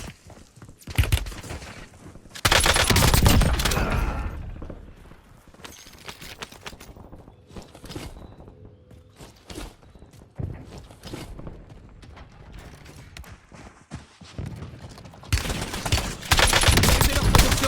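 Bursts of automatic gunfire in the Warzone battle royale video game. Loud volleys come at the start and the end, with quieter scattered shots and footsteps between them. Voices speak faintly underneath.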